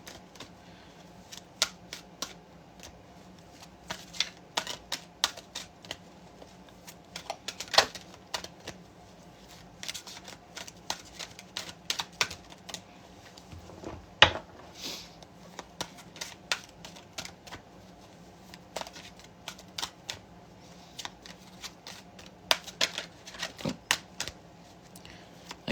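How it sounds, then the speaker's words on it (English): A deck of tarot cards is shuffled by hand in quiet bursts of soft riffling and clicking, repeating irregularly with no talking. "Alright, get a few more shuffles."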